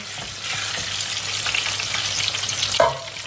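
Eggplant pieces sizzle steadily while frying in hot oil, a dense continuous crackle with light stirring, a brief clatter near the end.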